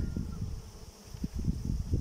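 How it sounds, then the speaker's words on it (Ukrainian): Low droning buzz of many Ukrainian steppe honey bees close by, continuous with slight swells, a faint hum above it. "Ось такі вони бджоли української породи"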